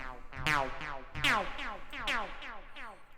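Short, bright plucked techno synth notes from an Ableton patch with its pitch envelope time at 48% fire in a rhythmic pattern, each note sweeping downward in pitch a little more slowly, with nothing else audible.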